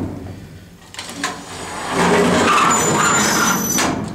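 A vintage Westinghouse elevator door screeches in a university student union service area, a harsh drawn-out scraping squeal that swells after a quiet start and holds loud to the end.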